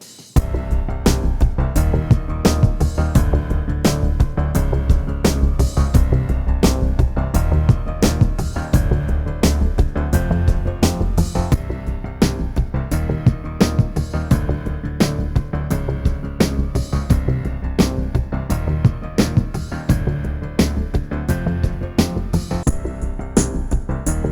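A recorded music track plays steadily and loudly through Bose SoundSport Free and Beoplay E8 earbuds for comparison, full band with a driving beat, no talking over it.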